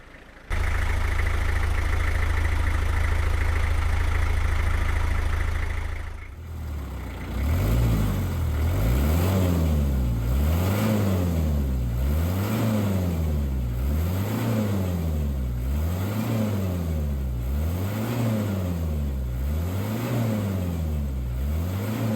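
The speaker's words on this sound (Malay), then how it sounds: "So every 10 minit kita pause untuk nak rev dia punya engine." A car engine idles close by with a steady hum, then is revved again and again in a regular rising-and-falling rhythm of about a dozen even pulses, loud and with no one speaking.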